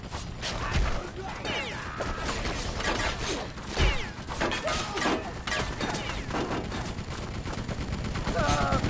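Rapid gunfire and weapon bursts rattle through a gothic castle battle in the game BloodRayne, with dense overlapping shots, crashes and mechanical clatter, loud and continuous, while voices shout over the action.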